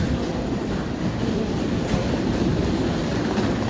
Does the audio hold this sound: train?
yes